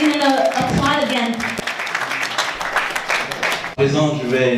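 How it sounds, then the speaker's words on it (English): An audience at an embassy tribute event applauds in a steady, moderately loud wash of clapping, with a speaker's voice over it at the start and again at the end. "Et on peut encore applaudir."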